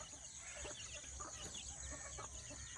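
Soft, scattered clucks from chickens, including a hen close to laying her next egg, against a steady background hum, with no talking.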